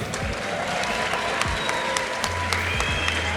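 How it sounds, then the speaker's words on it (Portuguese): An audience at a gaming convention panel talk claps continuously, a dense patter of many hands at moderate volume, with a few sharper individual claps standing out. "Uma salva de palmas para eles."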